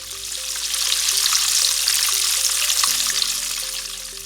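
Food is stir-fried in a Chinese wok with a loud, even sizzle of hot oil, while a stepped melodic music track plays underneath.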